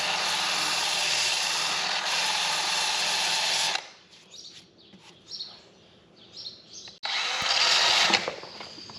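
A power buffer sands the oily outer periople coating off a horse's hoof wall to prep it for glue-on shoes, a loud steady whine that stops midway, leaving quiet handling noises before the buffer starts up again.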